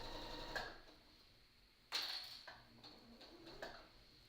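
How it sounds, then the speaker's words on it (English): A sewing machine stitching a seam on a tote bag at 3/8 inch, short quiet mechanical whirring bursts with one louder run near the middle, heard alone in a still room. "sew right along here at 3/8 of an inch"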